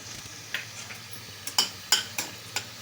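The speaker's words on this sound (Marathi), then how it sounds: "आता हे लवंग आणि दालचिनी टाकायची" Cloves and cinnamon sizzling in hot fat in a pan while mango shira is cooked, with a low steady fry and several short scraping stir strokes against the pan.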